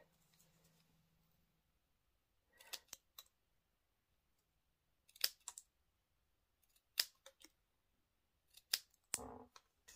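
Scissors snip through strips of patterned cardstock paper for handmade greeting cards, a few sharp separate cuts in short bursts with quiet pauses between, close and fairly faint, no talking.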